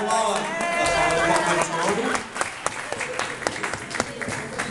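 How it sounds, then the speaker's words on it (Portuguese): Applause from a crowd at a traditional dinner gathering in May 2014, with dense steady clapping under lively voices and a few louder sharp claps standing out toward the end. "Salva de palmas."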